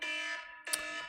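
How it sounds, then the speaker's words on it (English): An alarm goes off during a livestream: a loud, buzzing, harmonic electronic tone sounds, breaks off briefly, then returns in a second burst with a sharp spike. "alarms and all that stuff goes off."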